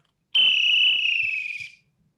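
A single sharp, shrill whistle blast rings out steadily for about a second and a half, then cuts off, loud and close against near silence.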